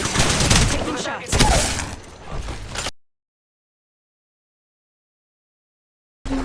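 Gunfire in a shooter video game, with dense rapid shots and blasts packed loudly into the first three seconds, then abrupt total silence before the sound returns at the end.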